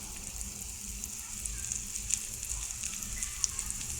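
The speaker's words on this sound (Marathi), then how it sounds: "आता बाकीची लावून घेऊन आपण फ्राय करून घेऊया" Surmai fish fries in oil in a pan over a low flame, giving a steady, soft sizzle with faint pops and crackles scattered throughout.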